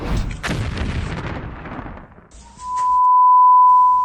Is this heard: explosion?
yes